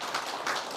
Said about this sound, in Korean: 박수야, 박수